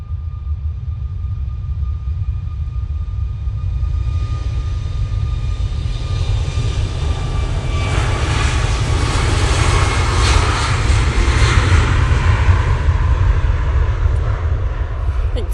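A TUI Boeing 737 MAX 8 jet takes off with a heavy low rumble, the engine roar swelling and brightening from around four seconds onward, loud and close, with a thin whine sliding through it.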